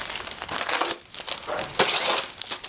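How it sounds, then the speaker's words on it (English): Tape is peeled off a silk screen in crackling, crinkling pulls, two close bursts separated by a brief pause, with no talk. "So you just pull the tape off."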